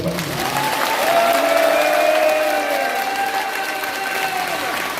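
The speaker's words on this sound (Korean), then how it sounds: "이승만 대통령한테 박수 한번 쳐요" An audience claps for President Syngman Rhee at a gathering in Busan, a steady wash of applause beneath a sustained tonal sound, with a voice briefly audible.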